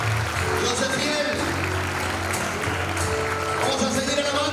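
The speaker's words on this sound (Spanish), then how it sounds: "Démosle fuerte ese aplauso al Señor." Applause from a church congregation during a Spanish-language evening service, a steady, dense wash of clapping held at even loudness throughout, with murmured voices mixed in underneath.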